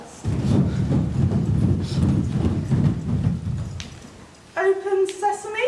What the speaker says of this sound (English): And they galloped off into the dust.